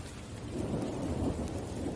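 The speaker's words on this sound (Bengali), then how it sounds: "আকাশে কালো মেঘ, চারিপাশে বিদ্যুৎ চমকাচ্ছে, সঙ্গে ঝোড়ো হাওয়া আর টিপটিপ বৃষ্টি" A thunderstorm rolls over a village near Kanchrapara with deep rumbling thunder, steady rain and gusting wind, forming a continuous low roar that swells slightly midway with no pauses.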